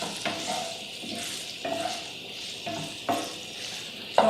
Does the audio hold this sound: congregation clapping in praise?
no